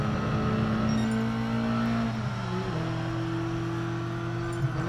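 A BMW M3 Evo in Gran Turismo Sport laps Tsukuba, its engine droning steadily at high revs before easing off and dropping in pitch through a corner, with a brief blip at the end.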